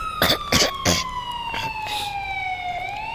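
A fire truck siren in the Roblox game wails with a long falling tone over several seconds, loud and close, with short bursts of voices over it.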